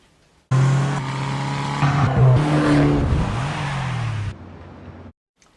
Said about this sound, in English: The Fiat 500 Abarth.